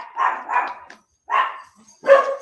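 Dogs barking in short bursts close by: a quick double bark, a pause, a single bark, then a louder final bark, each loud and clear with no talking.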